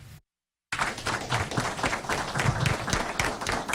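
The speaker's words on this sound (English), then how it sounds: "A round of applause erupted during the Electra City Commission meeting as Officer James Ward" Applause breaks out at a city commission meeting in Electra as an officer receives an award, a dense wave of many hands clapping that starts abruptly after a brief silence and holds steady and loud.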